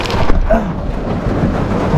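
A heavy rain downpour roars steadily at close range, dense and unbroken, with a low rumbling undertone that sounds like distant thunder.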